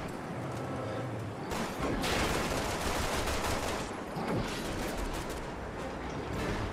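Dense continuous video game gunfire and fusillade-like crackling, loud and steady through the whole stretch without letting up.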